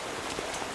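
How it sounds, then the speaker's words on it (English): Light drizzling rain under a gray sky in an animated show, a soft steady patter of fine drops falling on surfaces, continuous and even with no voices. "It's going to keep drizzling."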